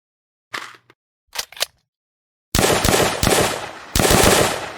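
Gunfire from a Nazi Zombies video game: a few short, sharp reports, then a dense rapid burst of loud shots with brief pauses between volleys.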